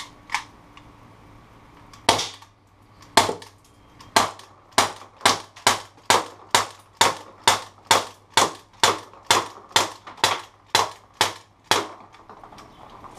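A cocked cap gun fires a long run of about twenty sharp, loud cracks at a steady pace, after a few scattered opening shots, with no talking.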